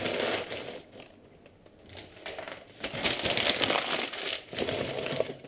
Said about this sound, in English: Sorry if the paper is really loud.